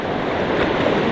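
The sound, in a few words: strong waves and water current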